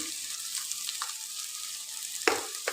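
Masala frying in a pan during home Punjabi cooking, a steady close hiss of sizzling oil with a few brief scraping stir sounds, one louder clatter near the end.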